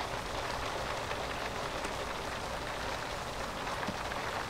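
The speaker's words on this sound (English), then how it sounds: "And it is raining and hailing, I think it is." Steady rain with hail pattering down in The Sims 3, a dense, even hiss of drops on surfaces with no breaks, fairly soft and continuous.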